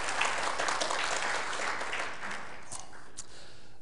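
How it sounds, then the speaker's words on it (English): Applause from the audience at a software conference workshop session, a dense wash of many hands that is loudest at the start and then eases to a quieter, thinning patter, with a few louder claps near the end. "So here's the tremendous applause, ladies and gentlemen"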